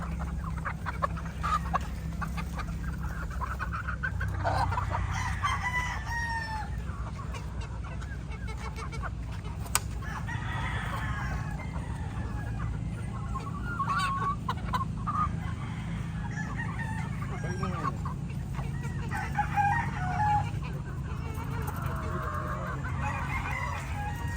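Roosters crow repeatedly in a gamefowl yard during a harvest of birds for hardening, several overlapping calls at moderate distance over a constant low background rumble, with occasional clucks and honking-like calls between them.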